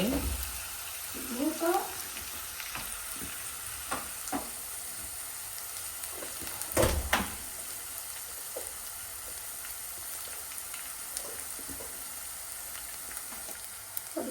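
A large fish seasoned with salt and chili fries in a pan, a faint, steady sizzle and hiss with a brief voice and a few soft clinks.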